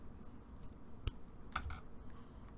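Scissors snip through thread while tying up a bride-themed handmade journal: two sharp, quiet clicks about half a second apart, close by, with no talking.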